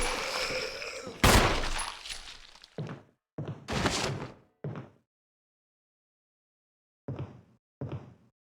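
Gunfire in a zombie video game: a loud opening blast followed by a string of separate gunshots at irregular intervals, with silent gaps between the last few shots.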